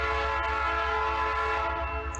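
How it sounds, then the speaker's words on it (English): A Norfolk Southern SD70 locomotive sounds a loud, sustained multi-tone horn chord as the train passes nearby, with a steady low rumble beneath. "There we have Norfolk Southern LT with an SD70"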